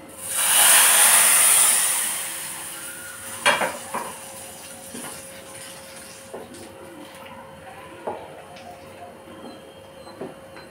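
Hot oil tempering for tomato rasam, with dried red chillies, black pepper and asafoetida, bursts into a loud hiss in the pan. It fades over a couple of seconds into quieter sizzling, with a few sharp clinks and taps.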